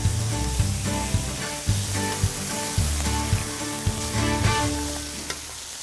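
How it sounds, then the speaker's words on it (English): Wild boar tenderloin sautéing in butter in a pan, a steady close sizzle and hiss with regular soft knocks and stirring taps, no voices. "So we're going to let this saute for a minute."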